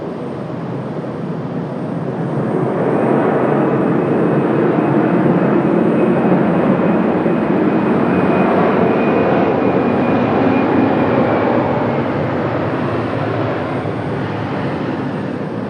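An airplane lands on runway 23 right at Raleigh-Durham International Airport, heard as a loud, broad jet roar that swells over a couple of seconds, holds steady, then eases slightly, with no voices.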